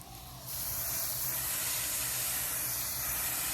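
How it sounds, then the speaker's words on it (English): Water spray rinsing the core of a Honeywell ERV5150E1000 energy recovery ventilator, a loud steady hissing blast that starts abruptly after a brief quieter moment and continues unbroken, close up. "So I'm just going to make my way all around this thing and rinse it out really good."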